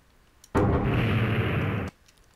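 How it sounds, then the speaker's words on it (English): A Destruction Catalyst explosion from the Equivalent Exchange mod in Minecraft goes off as a single loud, dense blast. It holds steady for over a second and then cuts off abruptly, with no talk over it. "I'm not sure if this explosion does damage to animals."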